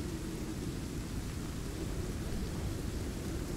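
Thunderstorm in the war game Call to Arms, a steady low rumbling roar with rain-like hiss, faint and unbroken throughout, with no distinct thunderclaps.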